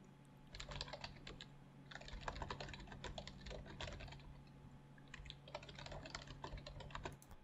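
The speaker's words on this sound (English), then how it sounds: "coding, which is just keyboard sounds recorded while coding" Computer keyboard typing recorded during a coding session, played back from a white noise app: dense bursts of clicky keystrokes in three runs separated by short pauses, close and steady over a low constant hum.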